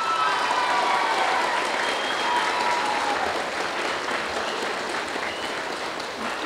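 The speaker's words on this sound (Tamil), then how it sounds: "அவருக்கு இன்னும் பெரிய கைத்தட்டல் கொடுங்க." A large audience applauds at a closing ceremony held in a mahal in Chengalpattu, sustained, loud, dense clapping that fills the hall and tapers only slightly.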